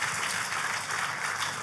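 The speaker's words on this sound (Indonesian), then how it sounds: "Tepuk tangannya, boleh yang paling meriah buat Tuhan kita." A church congregation claps together in a steady, dense burst of applause that fills the room at an even level throughout.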